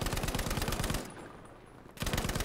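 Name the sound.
Lewis gun machine gun firing in Battlefield V video game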